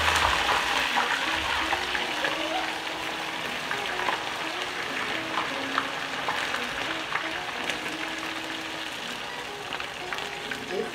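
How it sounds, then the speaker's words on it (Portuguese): Tucunaré fish seasoned with garlic, olive oil and salt frying in oil, a steady close crackling sizzle that runs throughout without letting up, with no clear talking over it. "E aí vou colocar lá no óleo para fritar."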